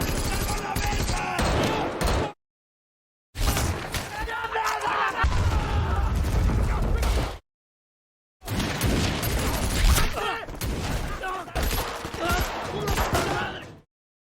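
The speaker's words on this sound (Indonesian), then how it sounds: "Tembakan berhenti sejenak" Gunfire in a film firefight comes in three loud, dense bursts of rapid shots and booms, separated by short silent gaps.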